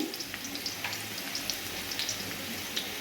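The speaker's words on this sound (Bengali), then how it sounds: "আমার দেখুন আলুটা ভালোভাবে ভাজা হয়ে গেছে" Potatoes fry in a pan with a steady, fairly faint sizzle and scattered light crackles and pops, with no voices.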